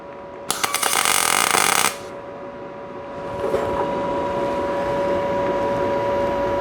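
Tack welding a chassis brace on an A-body car gives a short loud crackling sizzle of about a second and a half, then a lower steady hum continues afterward.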